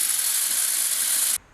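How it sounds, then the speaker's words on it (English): An angle grinder with a flap wheel shapes a notch in steel roll cage tube, giving a loud, steady, close hissing grind that cuts off sharply near the end, leaving a faint low hum. "So I'm just going to play around with the grinder to make it fit"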